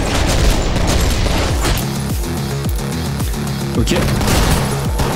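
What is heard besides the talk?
gunfire in the video game OTXO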